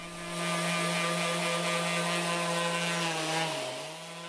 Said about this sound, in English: You can see how I'm tilting the sander forward and really kind of getting into the scoop of the carve.